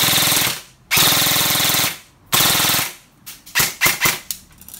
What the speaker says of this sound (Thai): เวลายิงปืนแรงก็ขออนุญาตเป็นชุดนะครับเป็นชุดจะเวิร์กมากนะถ้าลากยาวๆเลย